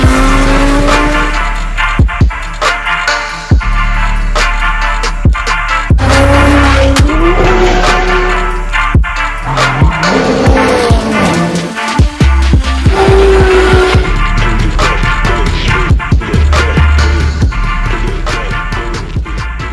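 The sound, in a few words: Mercedes W211 with Lorenzo aftermarket exhaust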